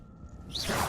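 Summoning spell whoosh in the Hogwarts Legacy video game, a brief airy swoosh that swells up in the second half after a quiet low hum, alone with no talking.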